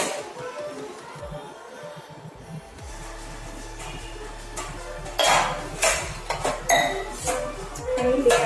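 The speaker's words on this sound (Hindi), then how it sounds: "ले आई प्लेट्स, स्टील प्लेट्स है ये, तो इसको मैं धोकर रखूँगी यहाँ पे।" Steel plates clank and clink against each other while being washed, starting with scattered clatter and building into louder, busier bursts of metallic ringing up close, over a low background hum with no talking.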